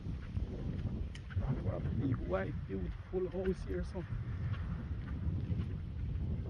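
Breeze blowing across an outdoor hillside estate in St Catherine, a constant low rumble of wind buffeting the microphone beneath someone talking close by throughout.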